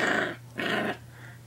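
A playful puppy growls in two short, close rumbling bursts, with a fainter third growl trailing off at the end.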